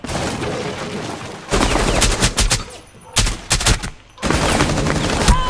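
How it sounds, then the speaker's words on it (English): Gunfire in a tactical siege video game comes as rapid automatic bursts and single shots in several clusters, loud and close, with short quieter gaps in between. "Gunfire on the ground floor."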